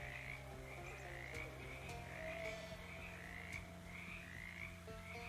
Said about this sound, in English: Speak to the frogs.